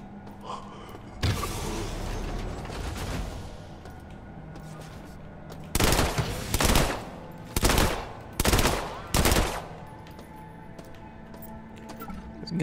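Gunfire in System Shock, bursts of rapid automatic shots, one longer volley followed by four short sharp bursts in quick succession, close and loud over a low humming game background.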